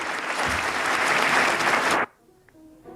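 A large audience claps loudly and steadily, then the applause cuts off abruptly, leaving near silence with faint room noise.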